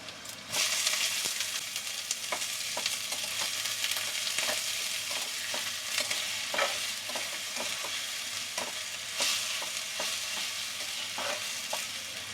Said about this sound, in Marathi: लसूण पहिली टाकते, नंतर मिरची टाकते, कांदा टाकते